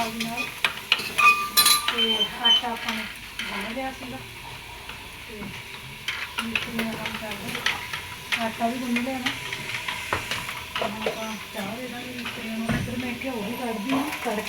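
Spices sizzle in hot oil with a crackling hiss, while a spoon clinks and stirs in the pan and someone talks over the cooking.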